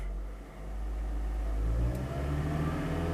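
A Toyota Prius engine parked in a driveway, idling with a low steady hum that rises slightly as it is revved, close and without talk.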